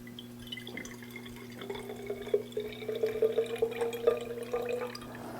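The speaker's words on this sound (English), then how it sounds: "I'm going to take some ordinary sink water and I'm going to pour it into this flask." Ordinary sink water pours into a flask, a soft trickling and gurgling that rises in pitch as the vessel fills, over a quiet steady hum.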